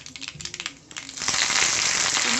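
A quarter teaspoon of mustard seeds spatters in hot coconut oil in a small wok for beetroot pachadi. The crackling starts as scattered pops and swells into a loud, dense, continuous sizzle up close.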